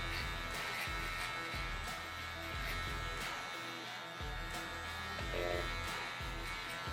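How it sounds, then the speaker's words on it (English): Electric hair trimmer buzzing steadily and quietly as it contours around the ears during a classic men's haircut, with small pauses in the hum. "I'm using the tip, the bottom part of the tip of my trimmer, to do the contours around the ears"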